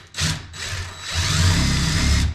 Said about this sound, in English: it'll kind of pre-drill your hole so it doesn't split